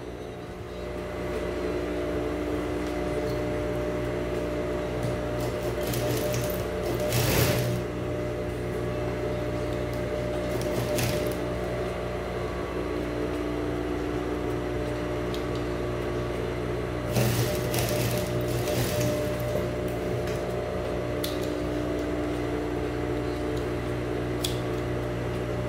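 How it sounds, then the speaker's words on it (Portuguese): A sewing machine runs steadily, stitching a seam joining the lower part of children's shorts, a continuous mechanical hum throughout with a few brief louder bursts, no talking. "E aí você passa uma costura juntando aqui embaixo."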